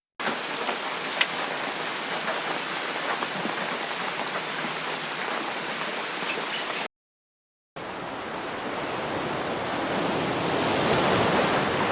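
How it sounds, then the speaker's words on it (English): Heavy rain pours steadily, a dense hiss of drops on surfaces, briefly cutting out before resuming even louder. "Rain falls heavily, branches shake violently"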